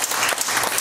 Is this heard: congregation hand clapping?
yes